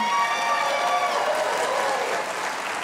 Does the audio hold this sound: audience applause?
yes